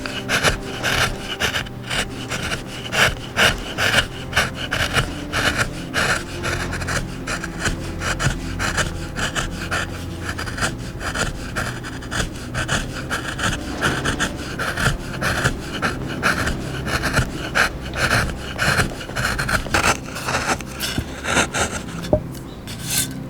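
A chisel carves into a wooden plate for Kamakura-bori lacquerware, giving a continuous run of close scraping, rasping cuts with small irregular scratches and taps, no voices heard.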